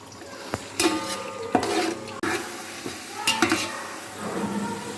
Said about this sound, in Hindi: ये साथ ही प्याज के अच्छी तरह से फ्राई हो जाएंगे और एक अच्छी सी खुशबू देंगे।